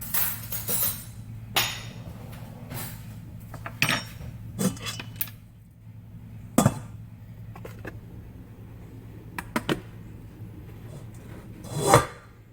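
A spoon taken from a kitchen drawer, with several sharp metallic clinks and knocks of cutlery and wood spread over a quiet room tone, the loudest rattle near the end.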